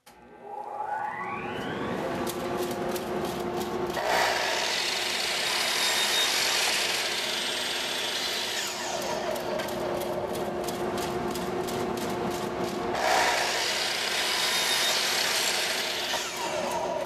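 A power saw rips wooden boards down to 5/8 inch thickness for a tool cabinet build, two long steady cutting passes with the motor whining between them, loud and close, no talk.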